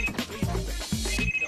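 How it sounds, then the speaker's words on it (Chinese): A telephone ringing in a rhythmic electronic ringtone pattern, two bursts of tones close and fairly loud, heard alone. "小胖老师的那个秘书打电话来"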